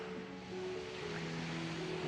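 Sea waves on the shore at Dover beach in the UK: a steady, broadband wash of surf with a faint low drone underneath, continuous and fairly quiet, with no voices.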